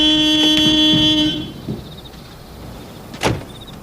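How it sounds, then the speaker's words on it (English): A car horn blares in one long, loud, steady tone, then cuts off. Quieter clunks and a short sharp door-like sound follow against a background of faint car noise. "You're not supposed to honk the horn."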